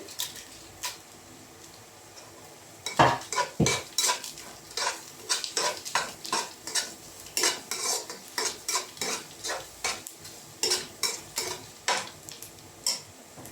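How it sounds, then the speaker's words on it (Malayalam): Dried red chilies, sliced green chilies and curry leaves sautéing in a pan for upma, with a spoon stirring and scraping in quick repeated strokes over a soft sizzle, close and without talk. "കറിവേപ്പില എല്ലാം കൂടി ഒന്നായിട്ട് നന്നായിട്ട് ഒന്ന് വഴറ്റി കൊടുക്കാം"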